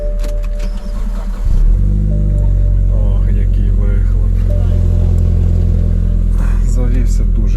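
A BMW Z4 engine cranks and catches on a cold morning start, then settles into a loud, rough cold idle with a brief rev, close by while someone talks.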